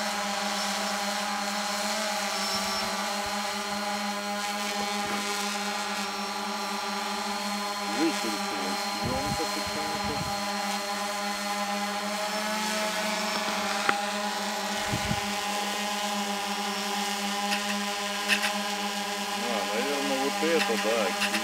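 Steady high-pitched buzzing whine of a hovering Xiro quadcopter drone outdoors, continuous throughout with shifting tones as it moves, while people talk nearby.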